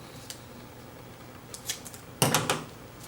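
Scissors snip off the tongue of a roll of photographic film: a few faint clicks, then a louder cluster of sharp cutting snips near the end, close and without speech.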